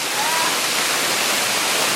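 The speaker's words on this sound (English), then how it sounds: "It's a waterfall." Bushkill waterfall roars up close, a steady, loud wash of rushing water that fills the whole moment without a break.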